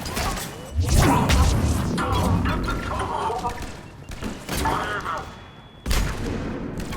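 Gunfire and impacts in Mass Effect 3 Legendary Edition on Omega, a burst of heavy shots and crashing hits mixed with voices talking over the fight.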